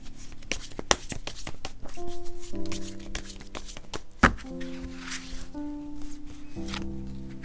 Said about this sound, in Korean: 여러분들에게 좀 조언 카드를 한 번 더 뽑아 볼게요